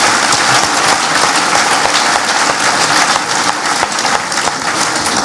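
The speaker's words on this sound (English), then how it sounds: "Big round of applause, please." A panel audience at a West Belfast public debate breaks into loud, dense applause, a continuous roar of many hands clapping close and unbroken throughout.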